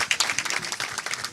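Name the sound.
audience applause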